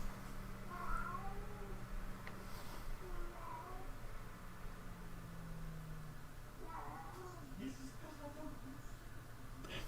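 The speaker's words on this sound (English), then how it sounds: "there's a cat that's completely bonkers out there" Somewhere outdoors, a cat meows wildly in repeated wavering calls, a little distant and faint, with people talking over them indoors.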